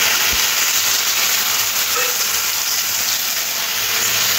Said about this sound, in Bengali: নুন আর হলুদ মাখা চিংড়ি মাছগুলো তেলের মধ্যে দিয়ে একটু হালকা করে ভেজে নেব।